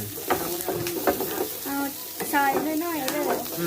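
Carrot stir-fried in oil sizzles softly as a spatula scrapes and taps the pan in a quick uneven rhythm, with a voice talking briefly over it.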